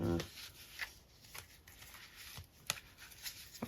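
Old bridge school cards and paper labels being handled in a craft room: soft, close rustles, light flicks and brief shuffling taps of card stock, irregular and quiet, with faint speech in the background.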